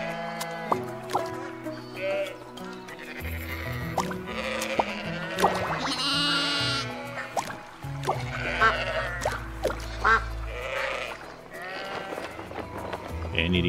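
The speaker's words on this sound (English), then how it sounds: "Sheep." Sheep bleat in the video game SCHiM, several calls spread through a busy mix of game music and effects, with a voice speaking at times over it.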